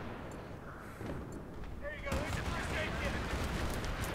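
Gunfire and artillery-like blasts in the Battlefield 3 video game, a dense rumbling barrage that grows louder after a couple of seconds, with game speech mixed in.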